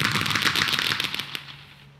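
Fireworks in a ninja-themed firework show, let off as a rapid, loud crackling barrage of dense bursts that rattle like gunfire before trailing away near the end.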